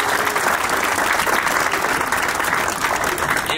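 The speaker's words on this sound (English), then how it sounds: "one more round of applause, please." At a pipe show award presentation in Chicago, an audience gives another round of applause, a loud, dense, continuous clapping from a sizable crowd heard alone for a few seconds.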